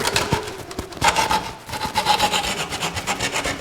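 A sharp cutting tool shaping the bottom of a twisted wooden hollow form, with quick, uneven rasping cuts and scraping strokes in short bursts, close and fairly loud, without talking.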